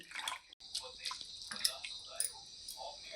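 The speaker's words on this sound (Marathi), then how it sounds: "आता आणखीन एक वेळा मी ह्याला धुवून घेत आहे" Grated potato for a fasting-day chivda is rinsed in water, with light splashing and dripping sounds close by, under a person's talking.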